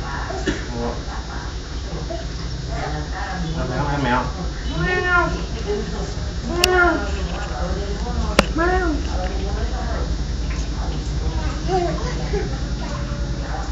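A cat meows several times in drawn-out, rising and falling calls over a steady background hum, with children's voices and other people talking nearby.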